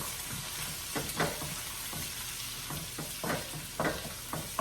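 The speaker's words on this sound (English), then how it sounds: "And get a little sizzling." Faint sizzling of bacon and ground turkey in a frying pan with intermittent scraping and stirring clatters, no voices.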